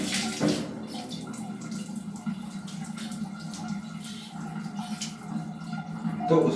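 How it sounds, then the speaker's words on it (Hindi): Water runs steadily from a toilet jet spray hose, a continuous hiss of flow and spatter holding through the whole stretch with no talk over it. "अब इसमें पानी बहेगा"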